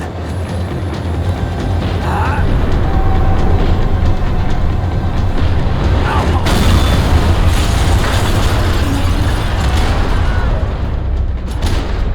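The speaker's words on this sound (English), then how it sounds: "The tram was slowing down, and I'd only just gotten on board." A tram runs on rails in the Max Payne 3 video game: a loud, continuous low rumble and rattle of wheels and carriage, with clanks and squeals over it, and no talk.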